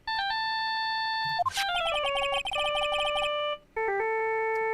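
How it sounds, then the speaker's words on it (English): A synthetic, electronic phone ringtone melody from the video game Phoenix Wright: Ace Attorney plays loudly in steady tones, broken by a brief swooping flourish and a short pause before the tune resumes. "I bet it was this ringtone that caused it"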